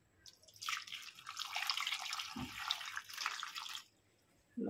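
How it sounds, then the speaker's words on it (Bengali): Water splashes and pours onto cut cauliflower and potato pieces in a kitchen bowl, a close, steady trickling and dripping wash lasting a few seconds before stopping abruptly. "জল দিয়ে দেব"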